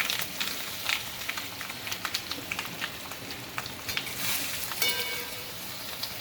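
Gujarati muthiya dumplings tossed into hot oil tempering with sesame seeds, asafoetida and curry leaves, crackling and spattering in a fast, uneven patter at moderate volume with no voices.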